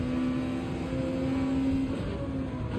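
A McLaren F1 race car launches in Gran Turismo 7, its engine holding a steady loud drone with a sustained tonal whine throughout, dense and close.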